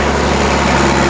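A farm tractor runs loud and steady with its PTO engaged, driving a feed mixer that chops forage, producing a continuous dense engine drone and mechanical roar with no break.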